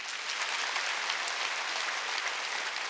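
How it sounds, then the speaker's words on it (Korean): A congregation at a Sunday church service applauds in a steady, even wash of clapping that sounds somewhat distant and sustains without a break. "박수를."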